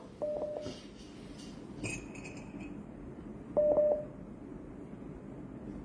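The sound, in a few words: telephone dialing tones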